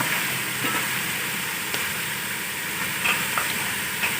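Continuous close sizzling and crackling of onions frying in hot oil, with a few faint clicks of stirring.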